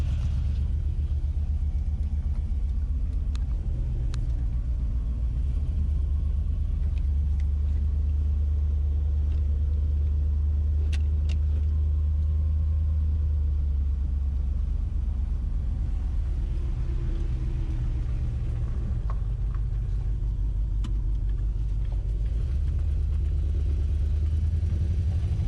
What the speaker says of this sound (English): So I hear exhaust leaks right off the bat.